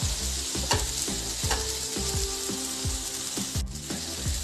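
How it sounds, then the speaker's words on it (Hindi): Tomatoes fry in a hot pan for masala oats, a constant close sizzle broken by regular scraping strokes of a stirring spoon, with no voices. "इसको हम ऐसे ही 1 मिनट तक भूनते रहेंगे, हमारा टमाटर जब तक सॉफ्ट ना हो जाए।"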